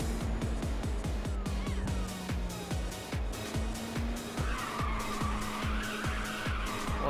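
A car drifting in the racing game Ridge Racers 2, with a sustained tire squeal riding over a revving engine and rapid rhythmic thumps, close and steady throughout.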